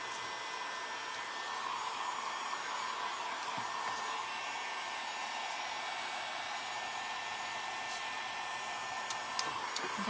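A hair dryer blows steadily and close by for the whole stretch, drying paint on round wooden signs, a constant broadband whoosh with a hum running underneath it and no talking.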